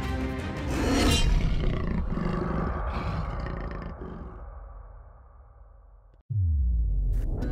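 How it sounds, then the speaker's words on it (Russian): An Amur (Siberian) tiger lets out a deep, loud, rumbling roar that swells and slowly fades, followed after a short silence by another heavy low burst of sound. "Встречайте, амурский тигр!"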